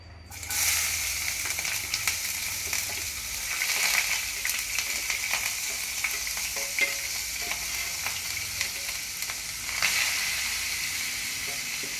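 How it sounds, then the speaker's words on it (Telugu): Onions and green chillies frying in a kadai after eggs were fried in the same pan, with a constant bright sizzle and hiss and occasional stirring scrapes, close and steady throughout. "ఇప్పుడు అదే కడాయిలో మనము ఆనియన్స్ చిల్లీస్ వేసుకుందాము"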